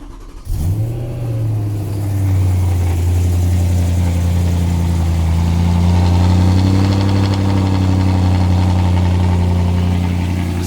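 A BMW E93 M3 with a standard exhaust fires up and settles into a loud, steady cold-start idle, its deep even drone slightly rising and holding close to the microphone, with no talk over it.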